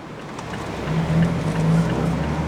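A 2026 Mazda MX-5 Miata Club with a manual gearbox being driven, its engine a steady, close hum that swells midway with faint tonal whine, with no talking over it.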